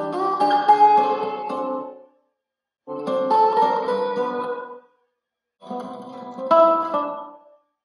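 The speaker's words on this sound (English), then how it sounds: "Putting the damping and the room size about halfway, it's a moderate reverb." Three separate musical phrases pass through a Teensy Freeverb reverb set to moderate damping and room size, each passage ending in a short decaying tail before silence.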